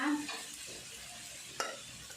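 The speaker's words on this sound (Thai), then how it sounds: "ผัดน้ำพริกแกงเผ็ดเลยค่ะ ผัดให้หอมนะคะ" Red curry paste stir-frying with coconut milk in a pan for a mackerel chu chee curry, a faint close sizzle with a single clear spatula scrape partway through.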